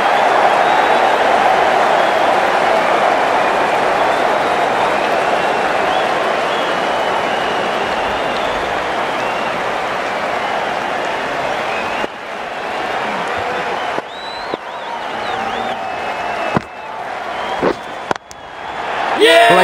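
A stadium crowd applauding and cheering in the Cricket 19 video game during an England versus Pakistan match, a dense sustained roar of clapping that thins out toward the end, with commentary voices over it.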